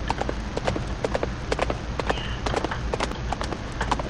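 Rhythmic clip-clop of horse hooves from riding in a Roblox video game, a quick steady trot of sharp hoofbeats sounding close and alone throughout.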